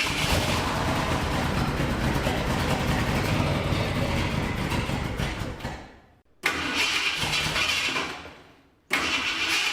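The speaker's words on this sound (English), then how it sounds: "now it's starting up and idling just fine" A turbocharged farm truck engine, freshly reassembled with valve covers back on, runs loud and steady close by, then cuts out twice and restarts each time, settling back into a rough idle.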